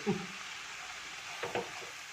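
Onions and chicken sauteing in a pan for a homestyle Kerala chicken curry, a steady soft sizzle with a couple of brief scraping stirs near the end, close and alone.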